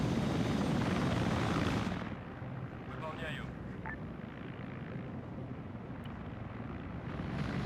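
An Mi-24 attack helicopter in a military video game thumps with a heavy, rumbling rotor noise that starts loud, then drops back to a steady distant drone, with faint game effects layered in.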